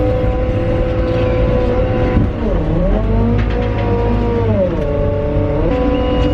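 Merlo telehandler engine running steadily, loud and close, its pitch dipping and rising twice as the machine shifts into reverse and moves, with a constant low drone and no talk.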